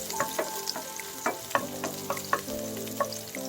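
Onions dropped into hot garlic oil sizzle and crackle while being stirred, close and lively, with sharp spoon clinks punctuating the frying hiss.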